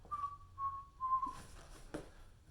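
One person whistles three short, clear steady notes, each a little longer than the last, quiet and close, with faint rustling and a soft bump afterward.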